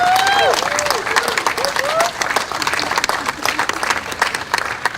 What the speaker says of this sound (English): So let's give another round of applause for these guys.